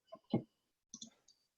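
A mouse clicks on a notification: a few crisp, close clicks in two short clusters, separated by a brief silence in an otherwise quiet setting.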